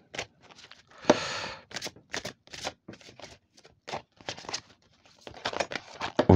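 Deck of oracle cards being cut and shuffled by hand, a series of close, crisp riffling and flicking bursts in an irregular rhythm, with no talking.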